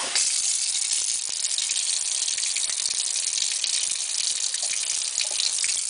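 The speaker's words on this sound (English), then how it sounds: "So you turn the tap on so it's hot." Hot water runs steadily from a kitchen tap for several seconds, a constant close hiss and splash with faint rattles, while bread dough mixture is being made.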